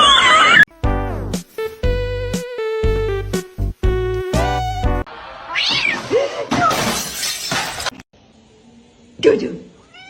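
A kitten meows repeatedly in loud, close, harmonic cries with short gaps, some rising into strained caterwaul-like wails, followed by noisier rustling and a fainter final mew.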